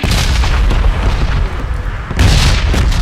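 Explosions in the red zone of the PUBG video game, a barrage of heavy booms with rumbling tails at close range, loud and rolling continuously with one fresh blast near the end, and no talking.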